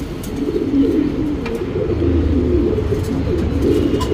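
Male Tirawal pigeon cooing, low soft repeated coos close to the microphone against a steady background hum with faint chirps.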